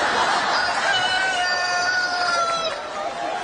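A rooster crows once in a long, drawn-out call lasting several seconds, steady and fairly loud over a constant noisy background.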